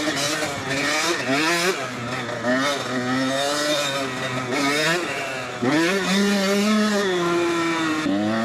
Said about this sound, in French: Quand tu montes dans les tours, j'essaie un peu d'accélérer.